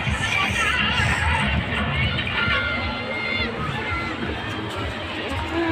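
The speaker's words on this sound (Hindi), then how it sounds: "चारों तरफ बहुत भीड़ हो रही है" Dense crowd chatter and shouting fill the air around a rooftop on Independence Day amid kite flying, a constant loud babble of many voices close by.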